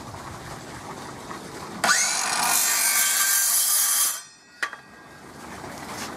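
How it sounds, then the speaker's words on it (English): An old garden hand saw cuts through wood while building a Wing Chun dummy, a steady loud rasp of about two seconds, then a sharp knock and quiet workshop background. "I do that with a hand saw. I've just got an old garden saw"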